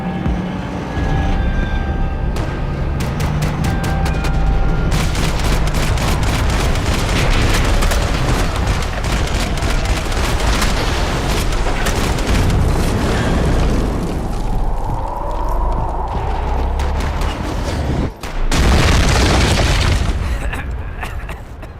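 Heavy gunfire and rumbling explosions from the video game Max Payne 3 fill a dense, loud stretch of rapid shots and booming blasts, with a brief dip near the end before another burst.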